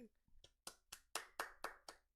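Hands clap about six or seven times at a steady pace in a quiet room during a Magic: The Gathering Commander game. The claps are close and crisp, with a little talk just before them.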